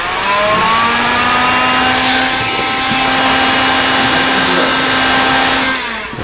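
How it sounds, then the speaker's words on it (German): A hair dryer blows on a car's vinyl wrap, making a loud, constant whirring hiss with a steady motor whine that runs throughout and stops at the end. "Ne, das ist der Föhn."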